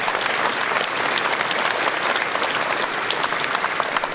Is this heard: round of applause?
yes